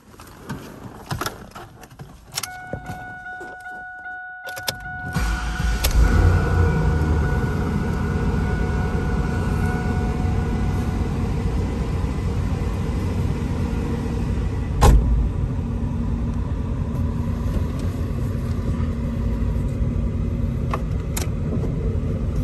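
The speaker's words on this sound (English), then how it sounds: "I wanna let you hear the motor." A car engine starts and settles into a steady idle after a cold start, a loud continuous rumble close to the microphone following a few seconds of clicks and handling noise, with a brief rev around the middle.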